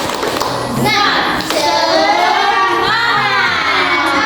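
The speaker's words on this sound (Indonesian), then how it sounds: "Tepuk semangat." In a classroom, schoolchildren perform the 'tepuk semangat' clapping chant, rhythmic claps and thumps under loud, excited shouting and sung voices.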